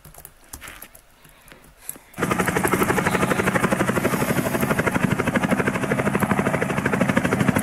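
Loud, steady rotor chop of a helicopter in a video game starts abruptly after a quieter opening and continues as a close, rapid rhythmic whir to the end.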